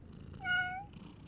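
A stray cat gives a single clear, close meow lasting about half a second, with faint low rumbling before and after.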